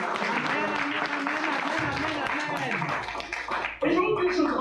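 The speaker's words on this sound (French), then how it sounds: "Acclame Jésus très fort, s'il te plaît." A church congregation applauds and cheers loudly for Jesus, dense continuous clapping with raised voices, filling the space throughout.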